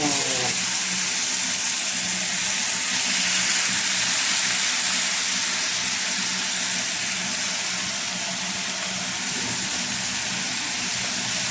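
Tomatoes sizzling in a frying pan, a dense steady hiss and crackle heard up close, continuous and even throughout with no talk.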